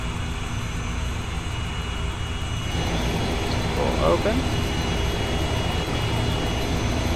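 A Sikorsky S-64 helicopter engine in a flight simulator runs steadily through startup as a constant broadband turbine roar, with a voice talking over it throughout.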